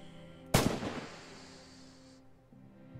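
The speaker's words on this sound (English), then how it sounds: "Don't forget to bolt the rifle after each shot, soldier." A single loud rifle shot from the World War II shooter game Red Orchestra 2: Heroes of Stalingrad cracks close by, then its echo rolls away over about two seconds, with no voices.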